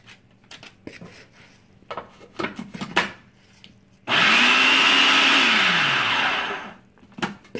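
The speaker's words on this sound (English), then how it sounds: "I'm going to add 1 additional ingredient to my crumble, my instant oatmeal, and give it another whirl" Crumble mixed with instant oatmeal whirs in a food processor for about two and a half seconds, a loud close motor spin that rises and winds down, framed by lid clatter and handling knocks.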